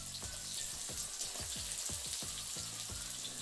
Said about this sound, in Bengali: কড়াইয়ে আবারও সর্ষের তেল দিয়েছিলাম এর মধ্যে দিচ্ছি পেঁয়াজ কুচি